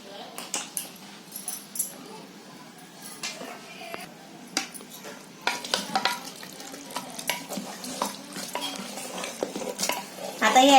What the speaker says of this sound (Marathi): आता हे आहे ना मी कुकरमध्ये जरा चांगलं म्हणजे असं थोडं फ्राय करून घेते